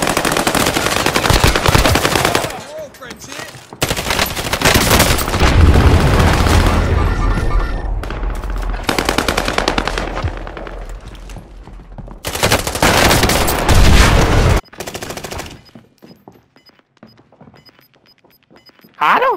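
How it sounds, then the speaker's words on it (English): Rapid bursts of automatic gunfire and loud booms in Call of Duty: Modern Warfare crackle almost continuously, dense and close, with short gaps of quiet between volleys. "Oh, somebody's sniping."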